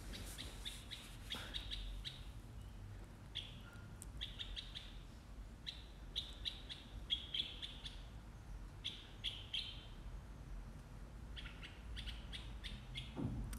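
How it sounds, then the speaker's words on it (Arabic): Faint birds kept by neighbours chirp and tweet repeatedly in short bursts over a steady low background hum, somewhat distant, with no talking. "انا فيديوهاتي كتسمعوا الطيور كيغوتوا"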